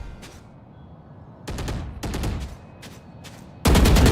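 Rapid bursts of Valorant gunfire crackle through a match, with scattered shots early, clustered volleys in the middle and a loud sustained barrage at the end.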